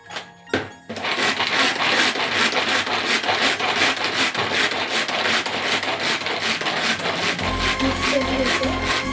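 Onion sandwich filling is stirred in a bowl, a steady scraping and rubbing that runs continuously after a brief start.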